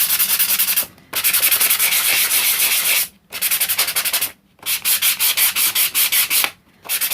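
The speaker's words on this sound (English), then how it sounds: "So I'm just going to take a sanding block." A sanding block rubs back and forth in steady rasping strokes, loud and close, with a few brief pauses between bursts.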